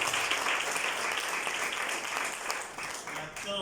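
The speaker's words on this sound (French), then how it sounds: "des applaudissements pour notre" Wedding guests applaud in a reception hall, a dense, sustained burst of clapping that fades slightly toward the end, with an announcer's voice over it.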